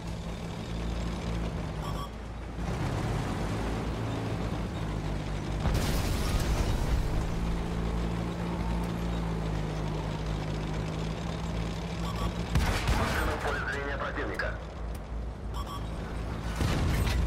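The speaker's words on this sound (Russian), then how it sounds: "Внимание, противник ведет артиллерийский огонь." Artillery shells landing and booming explosions in a World of Tanks battle on PS4, with heavy rumbling blasts around 6 and 13 seconds over a continuous engine drone.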